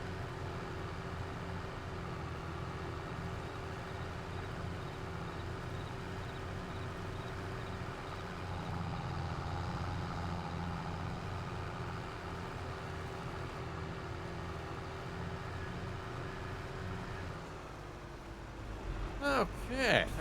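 A farm vehicle in Farming Simulator 22 drives toward the combine, its engine a steady, low, continuous drone throughout, moderately quiet, with a brief burst of other noise at the very end.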